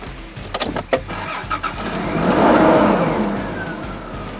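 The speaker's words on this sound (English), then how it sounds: "All right, mate, I'll start the car." A tow vehicle's car engine cranks over with a few quick starter bursts, then catches and revs up before settling into a steady running hum, heard close and alone without speech.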